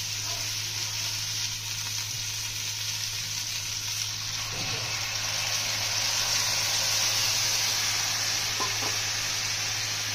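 Fish hisses and sizzles steadily in hot oil in a pan while being fried for chachara, a spicy Bengali mixed-vegetable dish. The frying is loud and continuous throughout, with a brief stirring scrape partway through and no voices.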